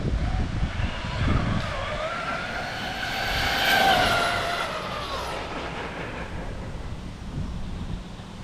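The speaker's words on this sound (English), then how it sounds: "I'm gonna try one more time to get full throttle" An Arrma Kraton RC car's electric motor revs up to full throttle, a rising high-pitched whine that peaks midway and then fades, running alone without speech.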